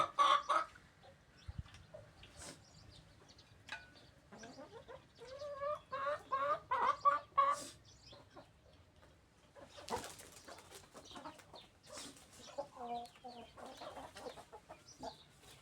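Chickens cluck and squawk in short, uneven bursts, some near and some farther off, with a low background hum throughout.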